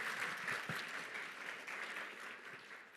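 An assembly hall audience at a Métis general assembly claps steadily for veterans, a dense, even wash of applause that sounds somewhat distant and holds for the whole stretch before easing slightly at the end.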